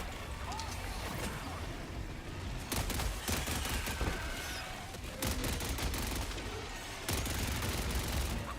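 Explosive mortar fire against bugs in the game Far Far West: several heavy blasts land in quick clusters amid constant rattling gunfire.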